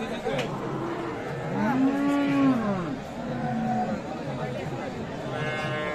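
Cattle moo loudly and repeatedly amid the steady crowd chatter of a rural cattle market, where Sahiwal cows and calves are being sold, with a long drawn-out low call standing out near the middle.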